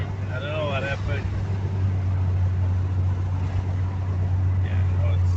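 VW MK1 1.9i engine with a new exhaust accelerating, heard from inside the car as a steady, loud low drone throughout, with a voice speaking briefly near the start.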